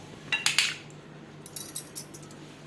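A knife cuts peeled cucumber for kichadi, giving a few light, close metallic taps and clicks in short bursts over near silence.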